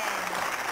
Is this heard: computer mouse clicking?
no